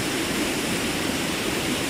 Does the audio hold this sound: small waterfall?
yes